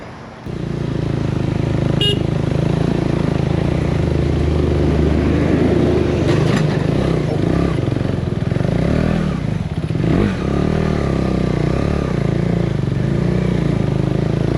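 KTM 390 Adventure motorcycle engine droning steadily while riding a Costa Rica road toward La Fortuna, with constant wind rush, a brief horn toot and some clatter.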